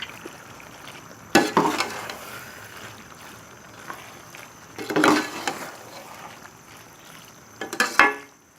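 A spoon stirs white sauce into chicken and vegetable macaroni pasta in a pan, making three separate bursts of wet scraping and squishing up close, with quiet gaps between them and no talk.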